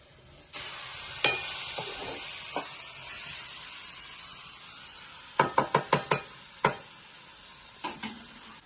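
Onion and green chili fry in a pan over a wood-fired chulha, a constant close hiss of sizzling oil broken by sharp metallic clinks and scrapes of a spatula, clustered in quick bursts, with no talking.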